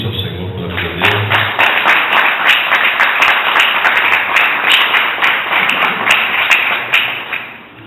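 A church congregation applauds for a pastor, with a strong wave of many hands clapping close up that builds quickly, holds steady, then fades out near the end.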